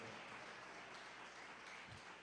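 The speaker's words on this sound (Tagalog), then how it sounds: "pumalakpak ng malakas sa ating mahal na Panginoon" A church congregation at a live-streamed worship service in San Carlos City, Pangasinan claps loudly together, a dense, steady wash of applause filling the room throughout.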